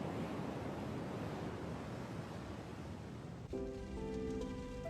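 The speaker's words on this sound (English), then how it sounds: "I could hear the sound of the waves" Ocean waves roll in a steady, loud wash of surf-like noise for several seconds, then cut away to soft music.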